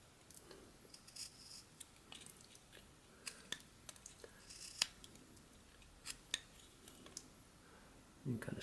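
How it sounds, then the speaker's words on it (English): Knife making a stop cut into a basswood whittling piece, heard as a series of short, close, crisp clicks and scrapes with quiet gaps between them. "So I'm just going to put a stop cut in here, right there,"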